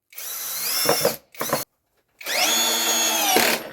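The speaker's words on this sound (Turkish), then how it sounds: "Evet 6 milimlik vidamı buraya takmaya başlıyorum" Electric screwdriver from a four-piece driver set drives a 6 mm screw in whining bursts, a long run, a short stop-start burst, then another sustained run, loud and close with no voices.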